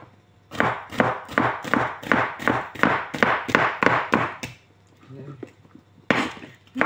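A knife slices ampalaya (bitter gourd) on a board with about a dozen quick, evenly spaced, close chopping strikes, then a short pause before another cut begins.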